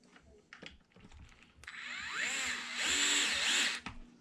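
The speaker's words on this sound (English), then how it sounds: "I'll use an electric driver just in the interest of time" An electric screwdriver drives screws into plastic during steering servo installation on an MT10E, a loud motor whine that ramps up and holds for about two seconds after a few short clicks, then cuts off.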